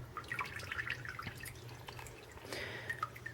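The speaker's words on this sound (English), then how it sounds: "Let it drip a little bit." Water drips from a soaked handmade Christmas centerpiece of wet floral foam and sticks, a scattering of small close drops and trickles over a low steady background hum.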